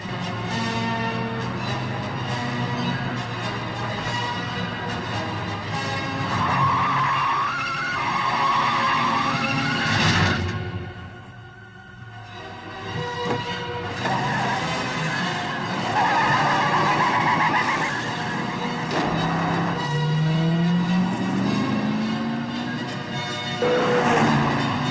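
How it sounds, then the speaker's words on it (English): The Blues Brothers Bluesmobile skids through a reverse 360 in a movie scene, long loud tire squeals and engine roar, a brief dip, then renewed screeching with sliding pitch. "the Blues Brothers Bluesmobile did a fabulous reverse 360"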